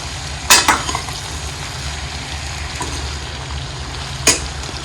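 Green chillies fry in oil over a low gas flame for pickle, a steady close sizzle running throughout with a few sharp clinks of a ladle or utensil against the pan.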